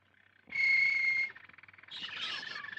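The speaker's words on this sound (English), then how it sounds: "I want a nice singing canary." Canaries in a bird shop trill and chirp: a bright sustained whistle, then a rapid pulsing warble and a burst of higher chirps, fairly close and with no speech.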